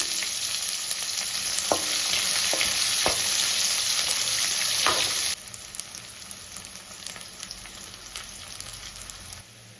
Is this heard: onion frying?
yes